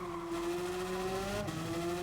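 A race car in Gran Turismo 7 downshifts hard to second gear, its engine braking with a loud sustained whine that drops in pitch, a brief break near the end, no talk.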